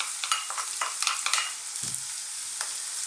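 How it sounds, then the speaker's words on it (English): Chopped onion sizzles in hot oil for a vegetable stuffing, a steady bright crackle with a few soft clicks of stirring and one low bump. Close, fairly quiet, no voices. "as that just starts to cook in that beautiful oil, let's add our onion."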